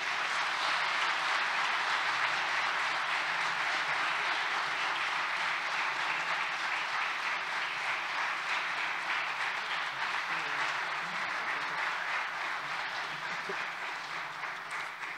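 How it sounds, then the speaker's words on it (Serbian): A sustained round of applause from a public talk audience fills a lecture hall, dense even clapping held for about fifteen seconds and fading slightly toward the end. "da jednim aplauzom pozdravimo naše sagovornike, ali pre svega vas kao publiku koja dolazi na tribinu"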